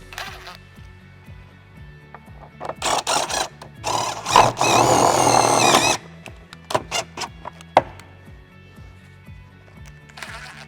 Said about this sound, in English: we're going to put the shorter tech screws at the back of the blind here